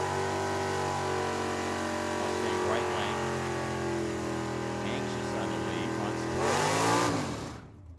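A Ford Mustang drag car roars down the strip at a drag racing event, its engine note holding loud and then climbing sharply near the end before cutting off, with an announcer's voice running over the top.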